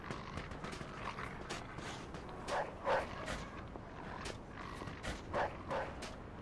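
Dog barking in the Mafia 2 video game, a few distant, muffled barks spaced out over a noisy game ambience, faint and somewhat masked.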